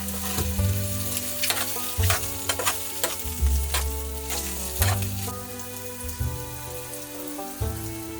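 Hot and spicy gabagool sizzles in a pan with continuous crackling and spattering, punctuated by periodic louder pops and bursts of frying.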